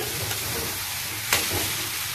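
Chicken leg pieces sizzle in a pan as they are stirred and fried, a close, continuous crackle with one louder scrape of the spatula midway; no voices.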